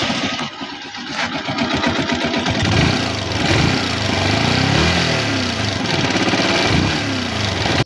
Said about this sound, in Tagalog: Start muna natin yung motor ni boss.